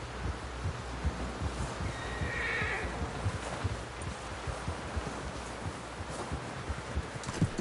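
A horse whinnies amid steady clip-clop of hooves on a trail in Red Dead Redemption 2, with a brief neigh standing out over the continuous rhythmic hoofbeats and some wind and rustling behind.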